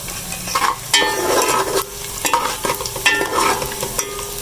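Onions fry with a steady sizzle in a pan as a spoon stirs and scrapes them in repeated strokes, close and fairly loud, while cooking chana dal chicken keema.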